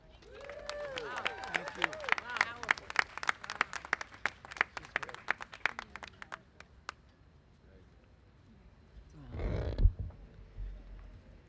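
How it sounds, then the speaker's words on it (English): Audience applause at a press briefing, sharp individual claps from a modest crowd for several seconds amid voices, fading out before a brief loud rumble near the end. "Please, another round of applause"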